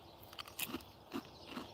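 Crunchy bites into a cheesy Sheffield pie with a crisp crust, heard as three close, soft crunches spaced evenly over a quiet background; no talk.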